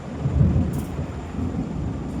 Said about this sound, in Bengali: কি জোর মেঘ ডাকছে